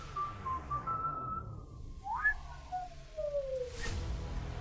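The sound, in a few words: a whistle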